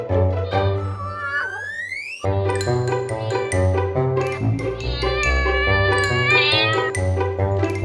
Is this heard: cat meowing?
yes